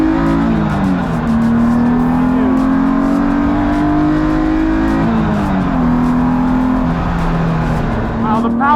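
BMW E36 M3 endurance race car pulling hard on a track, its engine climbing through the revs with a brief dip at a gearchange, loud and close throughout, with a voice talking over it.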